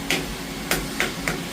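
Small hammer tapping down the edges of a workpiece in a machine shop, four sharp metallic taps close by at an uneven pace over a steady machine hum.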